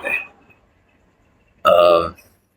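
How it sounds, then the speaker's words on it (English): A man burps after eating a hot dog: a brief faint burp at the start, then a louder, longer eructation lasting about half a second after a pause. "So I keep burping up hot dog."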